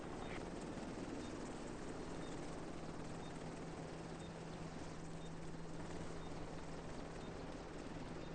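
A helicopter idles steadily in The Division 2, its rotor and engine making a constant droning hum that stays level and close throughout, with no speech over it.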